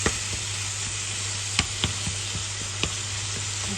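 Chicken sears over high heat in a pan, giving a steady broadband sizzle with a few soft clicks and taps from a utensil. No one speaks.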